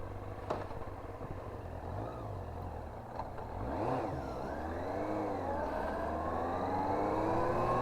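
A Yamaha R1 motorcycle engine runs steadily at moderate distance, its drone rising and sweeping in pitch as it revs and pulls away, with no talk over it.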